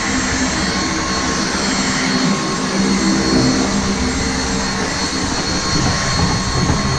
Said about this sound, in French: On passe un petit coup d'aspirateur.